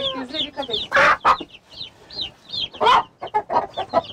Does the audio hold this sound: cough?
no